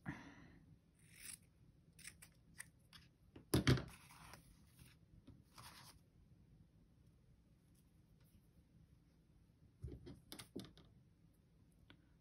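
A few quick, crisp snips of scissors cutting ribbon close by, isolated against a quiet crafting table with faint handling rustles before and after.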